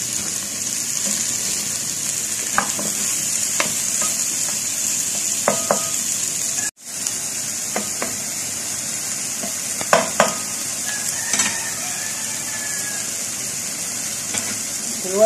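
Garlic fries in a pan with a constant bright sizzle, broken by occasional scrapes and taps from stirring, up close; a brief cut interrupts the steady hiss midway.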